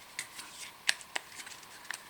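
Deck of game cards being shuffled on a tabletop, a few short crisp riffling snaps and flicks spaced irregularly, close and fairly faint, with no talk.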